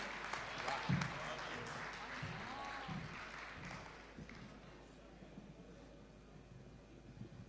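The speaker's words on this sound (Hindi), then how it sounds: "आपकी जोरदार तालियों के बीच" Audience applause at a Hindi kavi sammelan poetry gathering as a poet is welcomed to the stage: a wash of clapping, loudest early on and fading toward the end, with voices talking over it.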